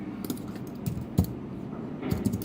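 Keys clatter on a computer keyboard while code is typed for a Node.js Express server, a few scattered soft taps then a quicker cluster near the end, close and quiet with no voices.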